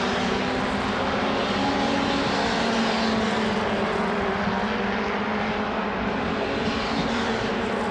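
Single-seater MRF 2000 race car from the MRF Challenge 2018 passing on track, a loud sustained engine roar holding steady throughout with a droning tone, no talk over it.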